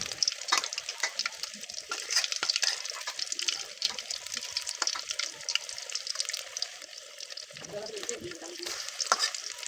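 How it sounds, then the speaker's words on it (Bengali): Potato chops (aloo chop) fry in hot oil: a loud, dense, continuous crackling sizzle that fills the whole clip, with occasional bubbling bursts and a few faint clinks of a utensil turning them. "এগুলো একদম লাল লাল করে ভেজে নিতে হবে।"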